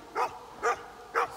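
Mountain refuge dogs bark three times at even spacing, moderately distant, on a cattle pasture along a Corsican hiking route.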